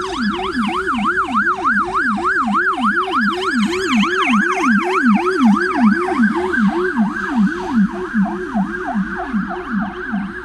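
An ambulance siren wails on ulica Lubelska in Chełm, a loud, steady two-tone rising and falling cycle repeating rapidly and continuously as it passes along the street, with traffic rumble underneath.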